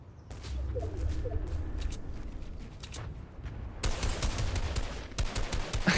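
Gunfire in a Fortnite tournament match, dense rapid bursts of shots crackling continuously, growing louder and sharper in the second half over a low rumbling background.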